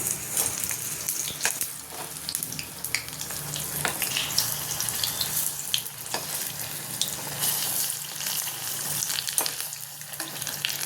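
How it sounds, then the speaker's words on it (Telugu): Paneer pakodi fry in hot oil as a crispy tea-time snack, with a dense, continuous close-up sizzle and bubbling, crackling steadily throughout with small pops and no talking. "పన్నీర్ బాగా వేగాలి"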